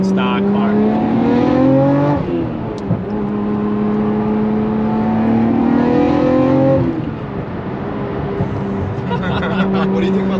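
A stock-power Nissan R34 GT-R with valved mufflers and a free-flow downpipe drones loud and close, its exhaust note holding steady, then rising and easing through several revs, with voices faintly underneath.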